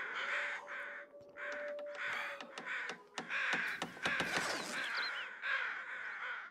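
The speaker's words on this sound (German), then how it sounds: "Krähen." Crows caw repeatedly in The Long Dark, loud harsh calls in quick succession, with several birds overlapping and sharp clicks and thumps scattered among them.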